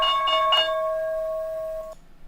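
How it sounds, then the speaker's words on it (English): The stock market opening bell rings as a clear ringing tone with a few quick strikes, sustains for almost two seconds and then cuts off. "Here's the opening bell."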